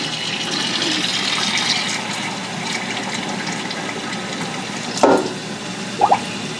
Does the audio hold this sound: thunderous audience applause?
no